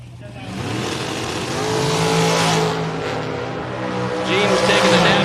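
A Regal composite fiberglass dragster engine revs loudly and steadily at the starting line of a drag race, its roar swelling and holding for several seconds while other voices speak underneath.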